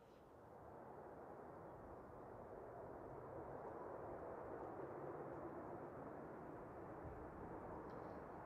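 A Ryanair jet from Oslo rolls out after landing at Manchester Airport, a faint, steady distant engine rumble that swells in and holds evenly throughout.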